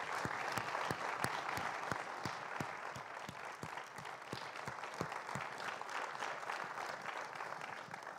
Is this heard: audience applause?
yes